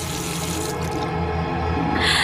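A water tap runs into a sink in a steady, loud, close rush that shifts slightly in tone as the flow changes, with no voices.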